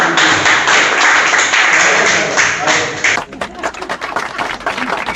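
A studio audience at a Holi poetry gathering applauds in a loud, sustained burst for about three seconds, then it breaks into scattered individual claps and taps as the clapping dies away.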